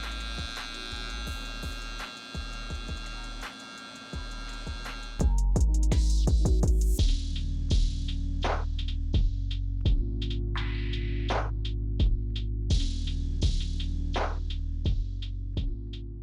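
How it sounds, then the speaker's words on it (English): An inexpensive electric hair trimmer buzzes steadily and close up while cutting hair at the bottom of a low taper, with a louder, harsher drone partway through and no speech. "Let's go in with our trimmer now."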